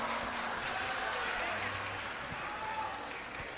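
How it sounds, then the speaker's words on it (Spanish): Applause from the audience at a Mother's Day special concert, a steady broadband wash of clapping sustained for several seconds at a moderate distance. "Fuerte el aplauso."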